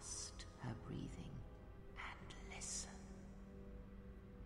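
A blinded woman meditating in the dark in Star Wars Knights of the Old Republic II breathes softly in a few slow, airy breaths, faint and close, with a hushed vocal quality.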